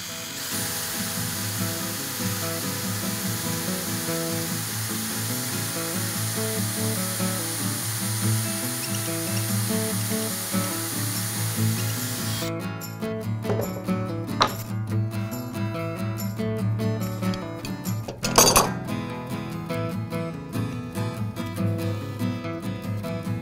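A power drill whirs steadily, then bites into wood with a rougher, grinding tone and a brief louder burst near the end.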